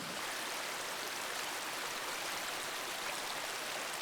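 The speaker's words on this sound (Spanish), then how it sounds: "hay áreas donde incluso vemos los meros nacimientos saliendo, brotando el agua del nacimiento puro" Pure spring water flowing out of a forest source, a continuous dense rushing hiss at steady loudness throughout, with no talk.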